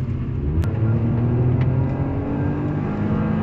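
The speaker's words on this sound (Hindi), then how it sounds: "neutral gear, let us rev it" A Hyundai i20 N-Line with a 1.0-litre turbo engine revs in neutral, giving a loud, steady droning hum that holds close and even, with a faint click near the start.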